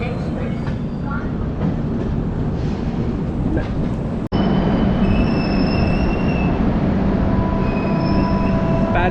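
A freight train runs alongside the moving Pratap Express on an Indian Railways line, a loud continuous rail rumble with squealing wheel tones and a sudden sharp jolt partway through.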